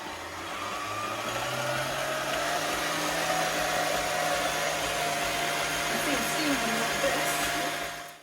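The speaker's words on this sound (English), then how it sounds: "We're now going to turn this up to a medium to high mix and leave it for about 10 to 13 minutes." Steady, continuous whir of an electric mixer at medium-high speed whipping a marshmallow mixture with gelatin for chocolate marshmallow Easter eggs, running close and unbroken for about eight seconds before cutting off.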